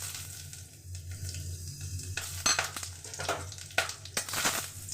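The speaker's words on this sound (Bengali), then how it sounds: "কড়াই আমার তেলটা গরম হয়ে গিয়েছে। প্রথমে আমি এখানে গরম মশলা আর একটু জিরে ফোড়ন দিয়ে দিলাম।" Garam masala and cumin seeds crackle and sizzle in hot oil in a kadai for a Bengali chachchari. A close, steady frying hiss is broken by scraping stir strokes and a few sharper clatters.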